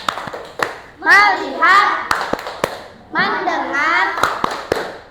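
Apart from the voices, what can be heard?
class doing the 'tepuk fokus' clapping chant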